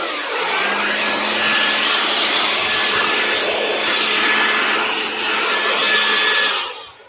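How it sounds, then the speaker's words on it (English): An air blower runs loud and steady close up, a continuous broadband rushing roar that holds for several seconds before tapering off at the end. "the best item I use so far up to date is this, an air blower"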